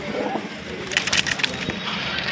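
Pigeons held in a loft or cage coo in soft, low, rounded calls, a few brief bursts close by over a faint background hiss.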